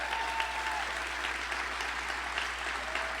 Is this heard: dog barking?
no